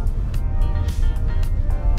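A used Mazda CX-5 2.2 D 175 automatic 4WD diesel idles close by, a low steady engine rumble with faint intermittent clicks over it.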